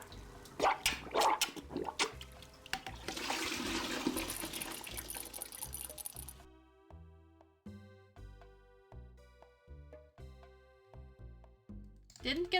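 A video game toilet flushes with a rush of water lasting several seconds, then gives way to plinking musical tones; a voice talks over part of it.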